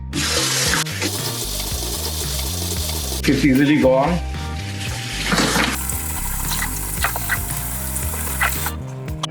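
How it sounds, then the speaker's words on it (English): Tap water runs steadily into a sink while a crab is rinsed and handled, with a person speaking briefly over the splashing. "So under running water, I will clean this."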